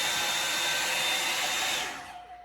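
A loud, steady Revlon One Step hair dryer on high heat roars with a broad airy hiss, then the blowing fades as it powers down near the end.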